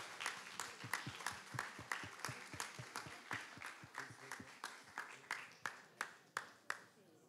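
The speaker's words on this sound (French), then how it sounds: "on peut une dernière fois les féliciter tous les deux et les applaudir" Slow, rhythmic clapping from an audience at an eloquence contest final, evenly spaced claps repeating throughout at a moderate, faint level.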